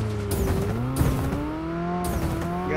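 A vehicle in the mobile battle game PUBG Mobile (BGMI) revs and its tires squeal as it suddenly stops, with shifting engine pitch and several abrupt bursts of noise over a short, loud stretch.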